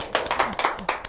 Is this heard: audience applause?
yes